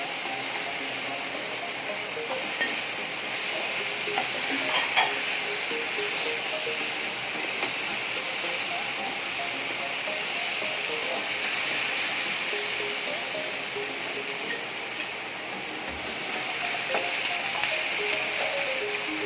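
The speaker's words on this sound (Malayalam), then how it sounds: "ഇതിലേക്ക് ഇനി നമ്മൾ ഫ്രൈ ചെയ്ത് വെച്ചിരിക്കുന്ന ചിക്കൻ ചേർത്ത് കൊടുക്കാം." Continuous sizzling in a pan with scraping and clinking of a utensil as fried chicken 65 is stirred and tossed in sauce, no talking.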